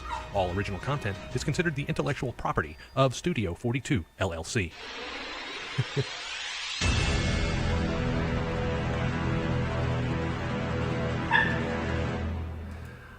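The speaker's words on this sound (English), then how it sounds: "I have one very angry puppy who is begging to go outside." Angry puppy barking and whimpering to go outside, sharp yips and whines in bursts under someone talking, then giving way to a steady background hiss.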